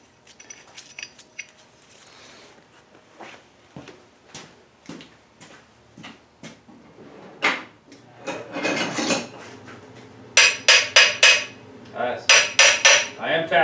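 A hammer taps on the pulley of a Dixon lawn mower, with the nut started back on the shaft. Sharp metallic knocks come at an uneven pace, sparse and light at first, then louder and quicker in short clustered bursts near the end.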